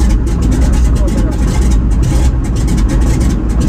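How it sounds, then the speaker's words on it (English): A DHC-2 Beaver's radial engine catches in Alaska, loud and close, with uneven, rapid firing pulses over a heavy low rumble, and a voice talks over it. "We got some cylinders fired"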